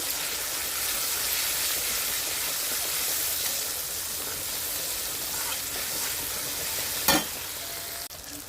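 Turmeric and cumin powder stirred into sizzling oil in a pan for a taro dish, a steady close frying hiss with soft scraping throughout and a sharper clack near the end.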